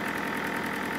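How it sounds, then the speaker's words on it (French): Home-built steam engine with its valve gear fitted, being run in on compressed air: a steady, even mechanical churning with a fast rhythmic knock, close and continuous, no voices. "je suis en train de roder le moteur avec sa distribution qui est montée"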